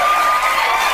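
A crowd of audience members cheers and shouts continuously in a brief, loud burst of massed voices with no clear break.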